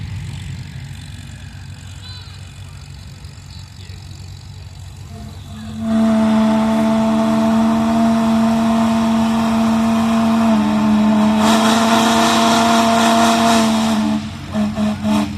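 A 1954 Farmall Super M tractor engine at a tractor pull roars in near and loud from about six seconds, a steady heavy drone with a rising surge late on after quieter outdoor background, no talk.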